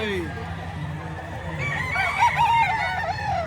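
A rooster crows with a rising, drawn-out call over background murmur and outdoor noise.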